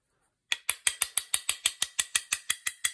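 A rapid series of sharp mechanical clicks from a Caesar Guarini gun's stuck sideplates being loosened, about a dozen evenly spaced snaps after a moment of silence.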